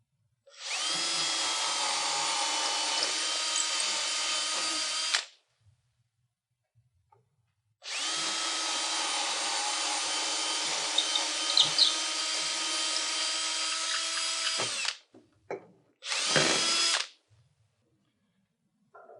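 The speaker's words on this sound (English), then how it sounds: "we pre-drill the other 2 holes. Use a 3/16 bit" A power drill with a 3/16-inch bit whines through wood drilling pilot holes in two long steady bursts, then a short final burst, with quiet pauses between.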